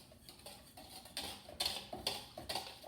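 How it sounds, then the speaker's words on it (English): A whisk clattering through dry pancake ingredients of flour, sugar and salt in a bowl, producing quick irregular ticking scrapes against the sides that grow louder and more rhythmic partway through, close and alone. "So now I'm gonna whisk them all together."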